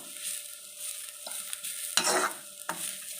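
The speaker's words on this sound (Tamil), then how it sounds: "நம்ம ஆயிலில் தான் வதக்கிட்டுருக்கோம்." Ridge gourd for chutney sautés in oil in a pan, with soft sizzling broken by several scraping stirs of a spoon, close and fairly quiet, no talking.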